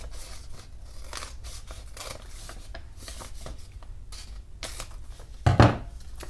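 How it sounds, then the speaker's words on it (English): Scissors snip and rasp through a paper tag in a quick run of close cuts, the trimming ending with a louder crunch near the end. "Watch me cut very not straight lines."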